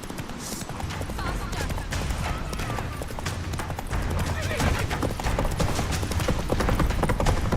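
Hooves of a horse galloping in The Witcher 3 pound rapidly and continuously, loud and close, layered with game action sounds and a voice speaking over them.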